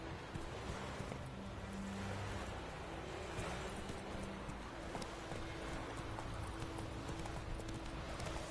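Steady clip-clop of a horse's hooves in The Witcher 3, an even trotting rhythm that runs throughout, close and moderately loud over a constant low background rumble.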